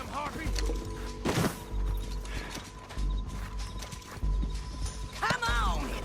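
Horse hooves clip-clop in Red Dead Redemption 2, a steady trot with a horse whinnying a couple of times, all under game voices talking.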